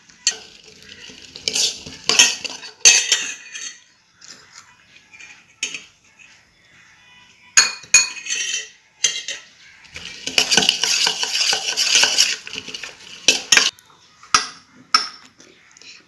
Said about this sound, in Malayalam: നമുക്ക് ഇച്ചിരി ഇളക്കണം